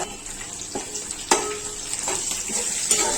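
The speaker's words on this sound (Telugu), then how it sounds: "వేయించుకుందాము" Ginger garlic paste fries in a pan while mutton biryani is being made, giving a constant hissing sizzle with a few soft knocks and scrapes of a spoon, close and moderately loud, with no voices.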